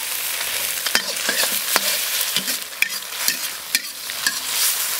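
Chopped chili hits a hot wok with egg for fried rice, frying in a bright continuous sizzle as a spatula scrapes and clacks against the metal in quick irregular strokes, close and loud.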